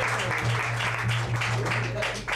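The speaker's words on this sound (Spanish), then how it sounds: "un aplauso para ellas." An audience applauds at a live rock concert by a Uruguayan band at Arteatro, a steady wash of clapping that fills the room, with a low sustained hum from the stage equipment underneath.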